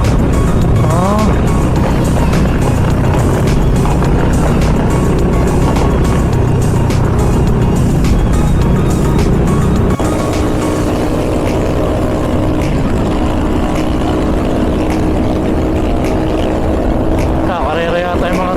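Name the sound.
motorized tricycles racing on a road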